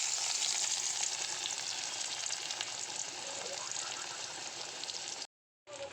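Onions frying in hot oil for Odia dalma, a steady, close hiss and crackle of sizzling that cuts off abruptly near the end before resuming faintly.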